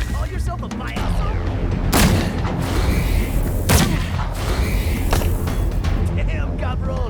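Gunfire in the video game Wasteland 3, several sharp booming shots spread through a busy mix of effects and background sound, with two especially loud blasts standing out.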